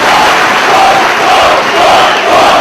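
Loud arena crowd at a Ring of Honor professional wrestling event, a dense continuous roar of cheering and shouting that swells and dips slightly throughout.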